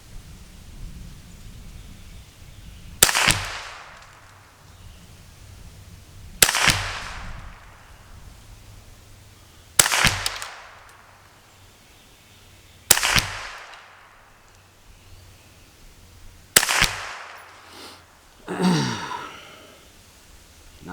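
Five sharp rifle shots from a Kidd 10/22 fired at a shooting bench, each a loud crack with a brief decaying echo, spaced about three seconds apart, with a faint rustle at the end.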